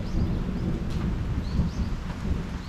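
Steady rain falls around a sheltered train station in rural Japan, a dense hiss with faint low rumbling that may be distant thunder, and faint bird chirps above it.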